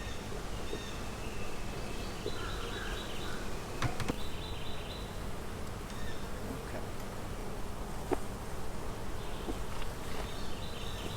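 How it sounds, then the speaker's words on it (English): A continuous dense drone of many honey bees buzzing close by at an opened hive being smoked, steady and fairly quiet, with a few faint higher tones drifting through. "Just smoking those bees on top."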